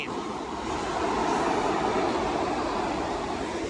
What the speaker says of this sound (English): That's the train, because the subway runs up Broad Street.